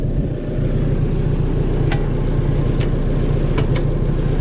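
A 1955 International 300 tractor engine runs with a steady, loud, low rumble close by, with a few faint clicks over it and no speech.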